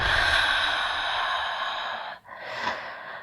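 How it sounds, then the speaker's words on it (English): One long, deep breath drawn in and let out, close and alone, with a brief pause before a softer exhale. "Take deep breath."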